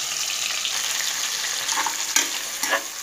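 Sliced onions sizzle steadily in a hot pan while a spoon stirs them, with a few soft scraping accents near the end; close, continuous frying with no talking.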